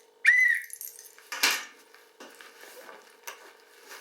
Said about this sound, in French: Un autre sifflet.